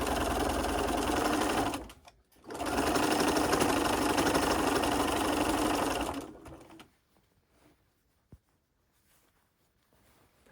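A sewing machine stitches fabric for a blouse, running loud and close in two bursts broken by a brief pause. It then stops, leaving faint handling clicks in near silence.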